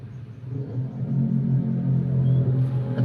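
Steady low engine rumble of a motorcycle cruising at about 50 km/h around 2000 RPM during a fuel consumption test ride, holding an even drone close by with no voices.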